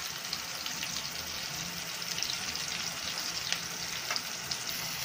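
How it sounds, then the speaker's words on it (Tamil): Onions sautéing with ginger garlic paste in a pan for a tripe fry, a continuous close sizzle with occasional stirring scrapes and no talking. "இதோட கொஞ்சமாக இஞ்சி பூண்டு விழுந்து சேர்த்துக்கலாம்"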